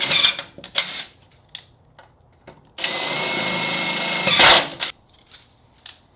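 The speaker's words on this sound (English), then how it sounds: "drill out the rivets on this VIN plaque" Drilling out rivets on a car's metal VIN plaque: a few short bursts, then a steady whining drill run of about two seconds rising to a shrill finish, followed by scattered clicks and taps.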